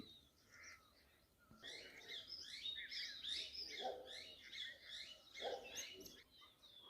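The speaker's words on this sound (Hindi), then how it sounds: "हजारों चिड़ियाओं की आवाज़ें" Many birds chirp and trill together on a morning in Naithana village in the Uttarakhand hills. The songs overlap into a steady, dense chorus at moderate distance, with no talking.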